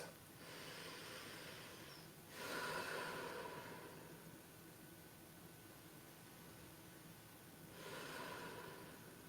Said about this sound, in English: just take a couple of deep, long breaths